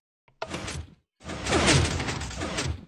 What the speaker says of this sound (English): And it turns out to be a 3x3 piston door.